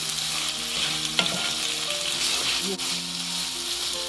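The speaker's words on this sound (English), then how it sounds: "Just saute this for some 30 seconds." Chilli stir fry vegetables sautéing with salt in a hot pan give off a steady, close frying sizzle, with a few faint clinks and tones in the background.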